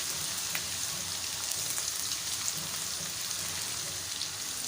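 Ginger garlic paste frying in hot oil in a pan, giving a steady, even sizzle and crackle. Tiny pops come through now and then, with no talk over it.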